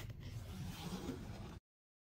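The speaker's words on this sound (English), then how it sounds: "Close the zippers on both sides." A zipper on a pet stroller travel carrier canopy pulls shut in one smooth, quiet, continuous run lasting about a second and a half, then stops into silence.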